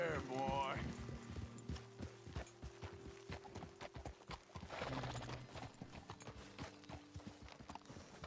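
Horse hooves clip-clop in Red Dead Redemption 2, a quick irregular patter of steps close by with a whinny at the start, while a voice talks over them.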